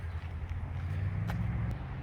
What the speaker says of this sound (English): I apologize for the noise. The new house is right in front of the highway over here.